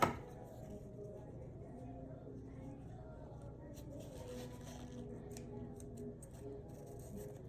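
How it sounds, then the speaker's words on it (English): Scissors snip through a rubber balloon while a homemade stethoscope is being made, producing a few soft, scattered cutting clicks beneath a person talking. "We're going to get our balloon. All right. And we're going to cut."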